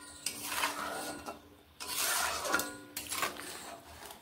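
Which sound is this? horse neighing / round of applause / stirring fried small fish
stirring fried small fish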